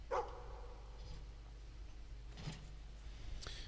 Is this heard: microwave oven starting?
no